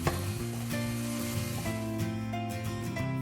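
Beetroot pickle with kanthari chillies being stirred in a pan, a continuous sizzle under a sustained tonal hum, with regular scrape-like pulses across the stretch and no talk.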